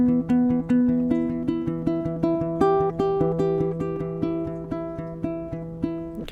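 Finger-picked acoustic guitar playing the intro and outro figure of a song, a steady rhythmic run of plucked notes and ringing chords, clear and close with no talking.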